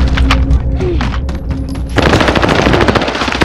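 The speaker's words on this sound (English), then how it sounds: "They're shooting at me." Heavy video game gunfire erupts into a dense, loud sustained barrage of rapid shots after a quieter stretch of rumbling distant fire and low engine drone.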